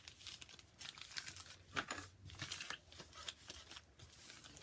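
Paper signatures are folded for a handmade journal, giving soft, close crinkles and rustles with sharper creasing swipes. The sounds are faint and irregular.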